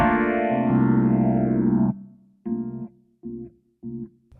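Kawai ES520 digital piano with an amp effect, heavy distortion and chorus: a long sustained chord sweeping in tone, then three short detached chords played in a steady rhythm.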